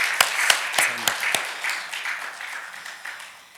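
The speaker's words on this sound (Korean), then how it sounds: "우리 큰 영광의 박수 우리 하나님께 올려드리도록 하겠습니다" Applause from a congregation at a Sunday Lent worship service in a Korean church in Seattle: a few sharp claps, then a dense wash of clapping that slowly fades, with some voices mixed in.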